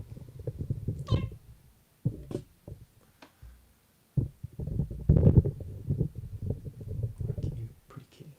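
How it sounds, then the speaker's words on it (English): A pet cat named Sammie meows a few times, with one clear, rising meow early on and softer sounds in between, close by and mixed with low voice-like murmurs. "Sammie the Cat. You a cute kitty."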